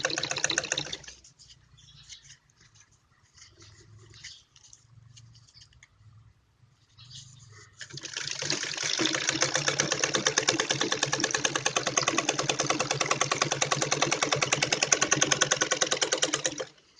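A sewing machine stitches net cloth for a Patiala salwar: a brief burst of whirring at the start, quiet handling for several seconds, then a long, steady, loud rhythmic run of stitching up close.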